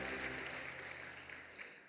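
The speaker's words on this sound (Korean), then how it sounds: "여러분께 박수로 환영하시죠" A church congregation at a Sunday worship service claps in welcome, producing a soft, even wash of applause that slowly tapers off over a low background hum.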